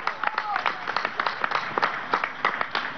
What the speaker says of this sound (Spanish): Aquí está el vicealmirante Aguilera, vamos a dar un aplauso.